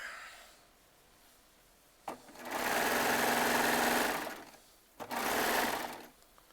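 Serger sewing machine running the final seam on a jelly roll quilt top, one long loud whirring burst followed by a shorter second run, each started with a sharp click.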